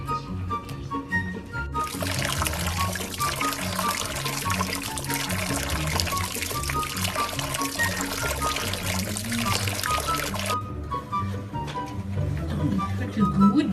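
Shower water runs steadily over a dog, a broad rushing spray that sets in after a couple of seconds and continues for most of the stretch before cutting off, with a person talking affectionately through it.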